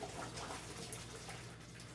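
Milky water drains from cooked macaroni for Älpermagronen, a steady close rush of pouring liquid that lasts throughout.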